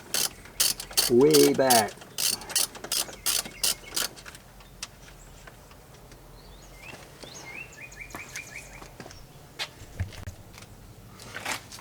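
A ratchet loosens bolts on the dashboard of a 1999-2007 Chevrolet Silverado, with rapid close clicking bursts in several loud runs, then quieter mechanical handling and a few brief spoken words.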